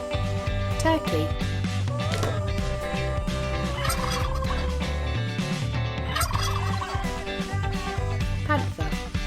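Turkey gobbling from an animal toy, a loud, dense, continuous sound running throughout over constant tonal background layers.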